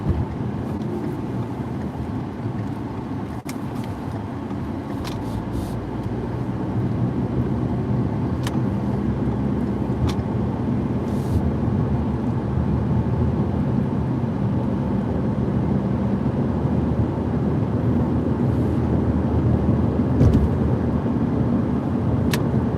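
Steady car interior drive with a constant low road and engine rumble that swells slightly after a few seconds, plus occasional faint clicks, and no one speaking.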